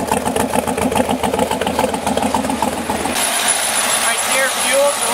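An LS7 V8 in a Chevrolet S10 idles with a steady, lumpy rumble close by under people talking, and the engine note thins out partway through.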